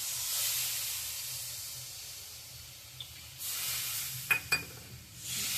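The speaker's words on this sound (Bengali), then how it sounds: "পরিমাণ মতন জল দিয়ে দিচ্ছি।" Water poured into a pan of frying masala for a pabda fish curry sets off a soft hiss and sizzle, fairly quiet and close, with a couple of small clinks of a utensil against the pan.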